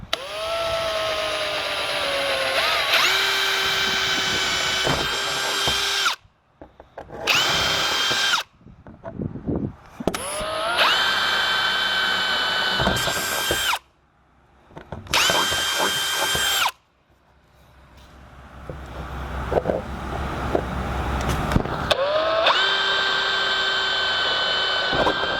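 A power drill boring bolt holes in a truck overland camper during a water inlet install, whining loudly in several sustained bursts separated by short pauses, with the motor pitch rising and falling as it bites.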